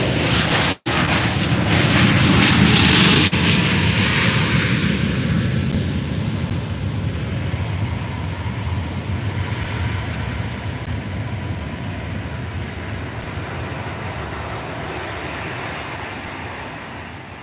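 A Ryanair airliner from London Stansted at Faro airport, a broad steady jet roar that swells early and then slowly fades over many seconds, loud and continuous with a brief dropout near the start.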